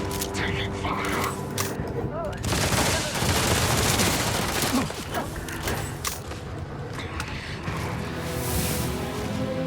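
Heavy bursts of gunfire and mechanical clatter in the space game Starfield, loud and near, running almost continuously with short gaps, with a voice speaking over the shooting.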